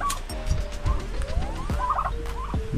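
Turkeys gobble inside an enclosure, several loud close warbling calls repeating over a couple of seconds with scuffling sounds between them.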